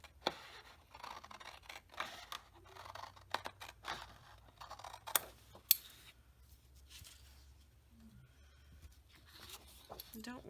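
Scissors snip through paper for a scrapbooking layout, a series of faint, close crisp cuts and paper rustles scattered through the stretch while a person talks.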